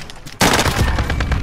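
Video game gunfire from a multiplayer shooter, a dense loud burst of rapid automatic shots starting abruptly after a brief quieter moment and continuing to the end.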